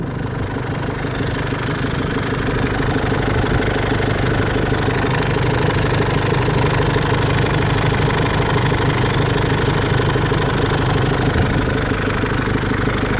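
A single-cab Isuzu D-Max pickup truck's engine idles just after starting, a loud, close, steady rumble with a fine knocking pulse that holds unchanged throughout, with no voices.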